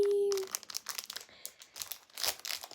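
Small blind-bag foil packets from a box of twelve are torn open and unwrapped up close, giving bursts of crinkling and tearing after a brief tone at the start.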